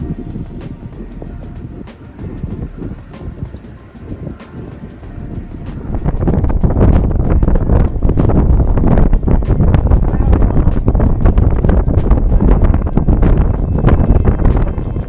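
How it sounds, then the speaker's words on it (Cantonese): Strong headwind roars across the microphone during a long-distance charity bike ride, a steady rumble that grows much louder and more constant partway through and drowns out everything else. "逆風啊！"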